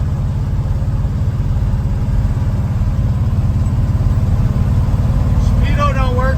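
A 1955 Chevy truck cruising on the open road at highway speed, a loud continuous low engine drone with steady road rumble from inside the cab, and a voice briefly talking near the end.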